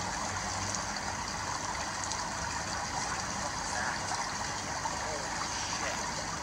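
A creek flows steadily through the dark outdoors at night, a constant broadband rush of water with no clear breaks, fairly even and moderately loud throughout.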